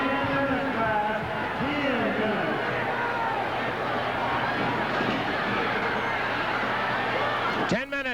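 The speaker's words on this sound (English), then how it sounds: "Crowd loving it." Wrestling arena crowd in Memphis roaring and cheering steadily throughout a match, a dense continuous wash of many voices, with a commentator talking over it.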